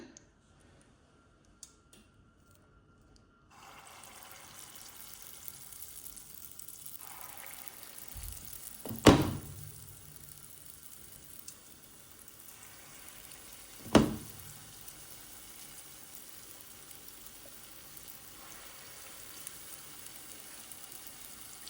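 Batter for Sri Lankan vaipan fries in a pan of hot oil. After a quiet start, a soft, steady sizzle runs throughout, and two sharper crackling bursts stand out as more batter meets the oil.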